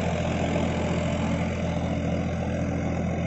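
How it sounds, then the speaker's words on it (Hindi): Farmtrac 60 Supermaxx 55 hp tractor, 2021 model with EGR, running steadily at 1500 RPM while hitched to an 11-tine cultivator; a loud, continuous diesel drone with a low throbbing hum, close by, with no talk. "लो, 1500 RPM पे ट्रैक्टर चल रहा है"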